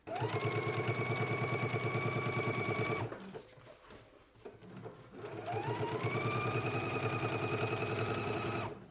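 A sewing machine runs a quarter-inch top stitch along a jacket yoke seam, with two steady close whirring bursts of rapid needle chatter separated by a brief pause of quieter handling.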